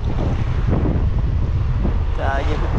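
Strong wind gusting hard against the microphone outdoors, a constant low roaring rumble, with someone speaking briefly over it.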